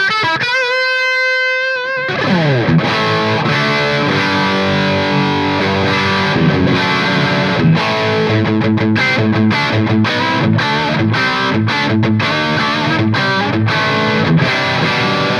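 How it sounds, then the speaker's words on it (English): A 1959 Gibson Les Paul reissue on its bridge pickup runs through a Friedman Runt 20 amp on drive. A few clean ringing notes give way to thick, saturated overdriven chords and riffs, played loud and close throughout. "But the Les Paul sounds like this through the bridge pickup."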